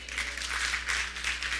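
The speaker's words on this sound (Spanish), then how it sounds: "¿Cuántos le dan un aplauso al Señor?" A church congregation applauding together, dense steady clapping from a large group filling the room, sustained throughout.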